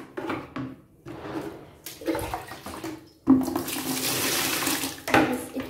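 Water gushing from an open household tap, starting after a few faint clatters and then running steadily and loudly close by for several seconds.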